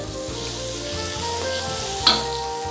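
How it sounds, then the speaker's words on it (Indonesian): Onion-free oil and margarine sizzling steadily in a pan for sautéing aromatics for black pepper beef, a continuous close frying hiss with faint stirring clinks and one brief sharper clatter. "Untuk menumisnya saya gunakan minyak dan margarin."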